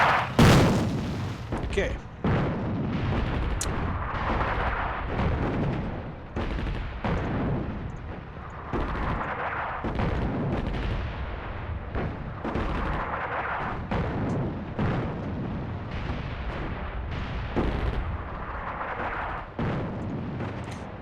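Continuous rumbling artillery fire and explosions from the video game Attack at Dawn: North Africa, a First Battle of El Alamein scenario, booming loudly throughout with a brief spoken word near the start.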